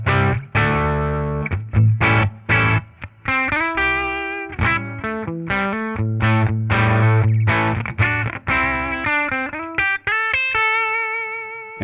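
An electric guitar played through a 1965 Fender Deluxe Reverb amp with a Jensen speaker rings out loud and near in distorted chords and single-note lead lines, with sustained notes and short pauses between phrases and no talking.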